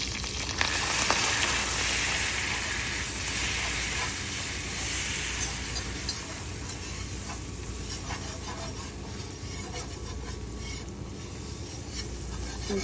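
Butter and flour roux for meat tarts cooking in a pan, giving a steady close sizzling hiss that carries on unbroken, with faint scraping now and then.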